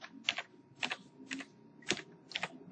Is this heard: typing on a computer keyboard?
yes